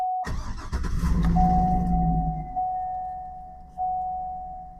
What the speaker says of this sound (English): Here we go. Starting the engine.